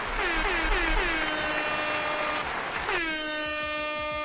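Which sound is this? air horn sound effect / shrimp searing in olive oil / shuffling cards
air horn sound effect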